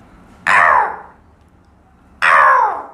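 A man imitates a crow's harsh caw twice, two loud rasping calls about two seconds apart with quiet between, close to the microphone.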